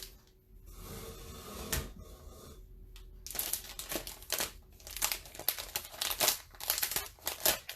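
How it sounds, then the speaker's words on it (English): A chalk couture transfer comes out of its crinkly plastic packaging, with quiet rustles at first, then a busier run of sharp crackling crinkles close by. "I'm going to take my transfer out of its packaging"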